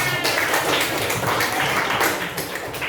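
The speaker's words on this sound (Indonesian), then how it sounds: "Tepuk tangan." Classroom of middle-school students clapping their hands together at a school counseling session, a dense, fairly loud patter of claps sustained throughout with some voices mixed in.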